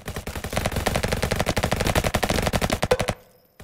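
A light machine gun fires in a Roblox first-person shooter game, a loud, rapid sustained burst of closely spaced shots lasting about three seconds before cutting off.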